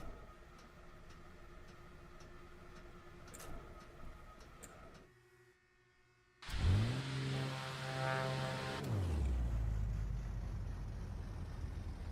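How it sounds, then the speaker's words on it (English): Aircraft engines spool up after a near-silent pause, a rising whine that levels into a steady loud roar and broad rumble, following earlier faint cabin ticks and hum. "Now the engines are running."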